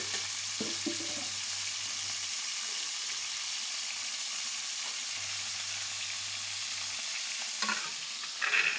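Shelled peanuts dry-roasting in a pan for a gongura tomato chutney, a steady hissing sizzle with occasional stirring scrapes, close and continuous with no talk.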